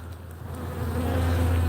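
Honeybees pour out of a hive after Apimondia tablets are added, a steady low insect hum that grows slightly louder over a couple of seconds.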